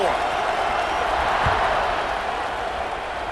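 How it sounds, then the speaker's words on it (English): Stadium crowd buzzing at an Alabama versus Clemson college football game, a loud, dense, steady roar of many voices filling the space, with no single voice standing out. "this crowd is buzzing after that last score"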